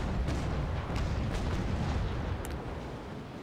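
A frigate's cannon broadside fires in the naval combat game Naval Action, a dense rumbling barrage of overlapping booms with sharp cracks, loud and continuous for a few seconds before easing off.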